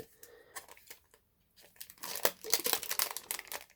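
A Marvel Panini Civil War trading card pack wrapper is opened up close: scattered crinkles, a short pause, then a dense run of crackling foil tearing and crumpling. Quiet overall, no voice.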